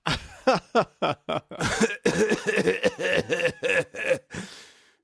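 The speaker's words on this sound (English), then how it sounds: "They'll just start coughing." A burst of several sharp coughs, then a longer run of throaty coughing and sputtering, close and fairly loud, with no talking.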